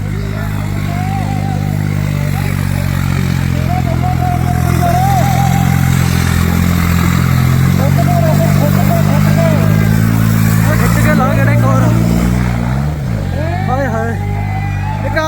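A small tractor's loud engine runs steadily nearby at a village fair tractor-pulling contest, a low throbbing rumble rising and shifting near the end, while people talk over it.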